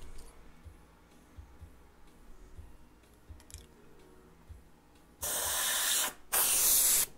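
An airbrush spraying paint onto custom Spiderman-themed Vans shoes: two loud bursts of steady hissing spray near the end, after quieter handling noises.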